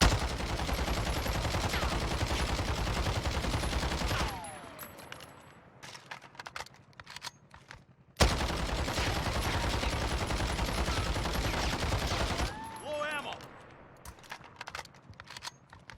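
Sustained full-auto bursts from a CR-56 AMAX assault rifle fitted with a 45-round magazine in Warzone, loud and dense, two long strings of fire separated by short pauses with faint reloading clicks and casing sounds.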